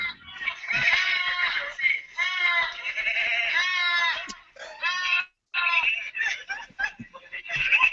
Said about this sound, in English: they're hearing the screaming goat